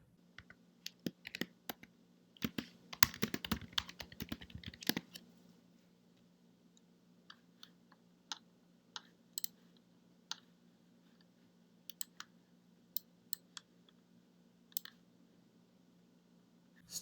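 Fast bursts of typing on a computer keyboard, dense clicking for the first few seconds and then scattered single key taps, close and fairly quiet against a low steady hum.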